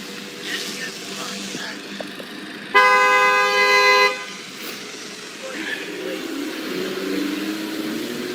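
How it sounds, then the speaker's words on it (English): A car horn honks in one loud, sustained blast of about a second and a half during a roadside confrontation, standing out sharply from quieter street background and distant voices. "She's honking at me, I'm going to the police."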